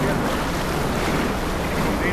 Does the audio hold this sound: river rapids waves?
yes